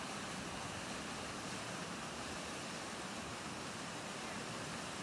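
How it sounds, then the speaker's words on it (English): A broad, continuous roar of rushing water fills the clip, steady and dense like a swollen river churning past: a river's runoff after a rainstorm pouring into Lake Superior, Porcupine Mountains Wilderness State Park. "you should see the runoff from this river going into Lake Superior"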